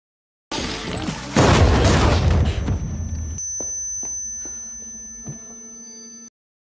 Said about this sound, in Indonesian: Bailey menyeret Parker untuk berlindung sambil ditembaki.